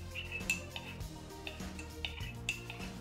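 A spoon stirs hot chocolate in a cup, making light, repeated clinks and taps of metal against the cup in a quick irregular rhythm, close and fairly quiet, with no talking.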